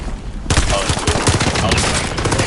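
Dense rapid gunfire in Call of Duty Warzone erupts suddenly after a quieter moment, loud and continuous bursts overlapping with voices.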